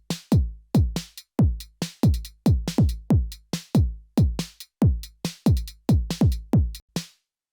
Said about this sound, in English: I have a different drum loop.